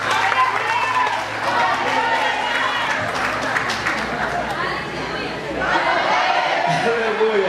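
A church congregation applauds while seated, with a steady wash of clapping mixed with crowd chatter and voices throughout.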